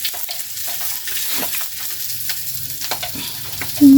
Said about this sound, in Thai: โอ้ น้ำมันกระเด็นแล้วนี่